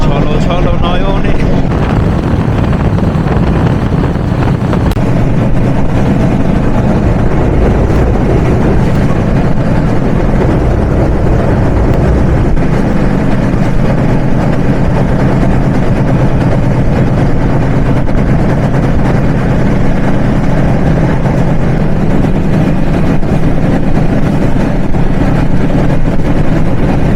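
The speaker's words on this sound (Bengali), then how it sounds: "আমাদের ট্রেন থ্রু পাস করে যাচ্ছে নড়াইল জেলার লোহাগাড়া রেলওয়ে স্টেশন।" The Ruposhi Bangla Express runs through Lohagara railway station in Narail without stopping, a loud, unbroken low rumble of wheels and engine mixed with rushing wind, heard from aboard the train.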